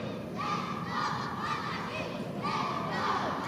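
A football crowd at a Philippines Football League match between Kaya FC-Iloilo and One Taguig FC roars in sustained, swelling cheers and shouts, a dense continuous crowd noise filling the stadium.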